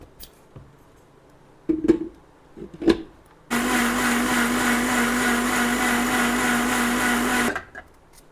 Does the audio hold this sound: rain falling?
no